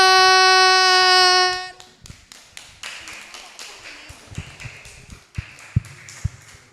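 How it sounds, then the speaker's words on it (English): Students at a fifth-grade school assembly applaud after a long held tone fades, giving uneven claps and taps that thin out into scattered louder hits nearby. "give applause to group 1"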